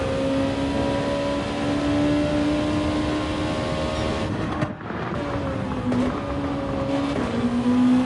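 Race car engine in a racing video game on the Maggiore full course, roaring loud and steady at high revs, then dropping pitch through downshifts into a corner before climbing again, with no talk.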